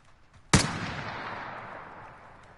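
A single loud gunshot in a video game, sharp and close, with a long decaying echo trailing off over about two seconds, no talk.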